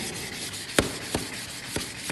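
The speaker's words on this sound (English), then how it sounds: "Really work the sanding in to get the shine back on the window." Rhythmic wet-and-dry sandpaper strokes, wetted with water, scrape across a scuffed UPVC window frame, a sanding motion repeating about every half second over a constant background hiss.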